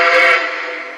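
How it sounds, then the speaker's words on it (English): NKP Berkshire model steam locomotive whistle, a loud close blast with rich harmonic tones that fades slightly toward the end. "I'll blow the whistle"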